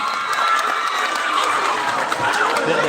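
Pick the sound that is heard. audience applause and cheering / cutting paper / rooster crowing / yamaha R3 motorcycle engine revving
audience applause and cheering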